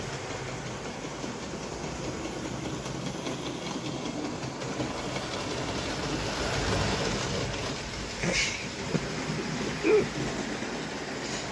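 A small toy train motor whirs with a faint continuous rattling hum, steady and close, with a couple of brief clicks near the end.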